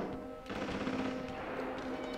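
Rapid automatic gunfire rattles in the horror game Outlast, a continuous burst of close, loud shots lasting a couple of seconds over a dense background.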